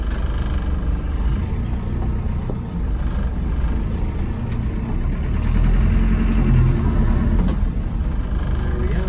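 The 200tdi diesel engine of a 1991 Land Rover Defender 90 rumbles steadily while reversing, a low, close idle-like drone that swells slightly midway, with faint talk nearby.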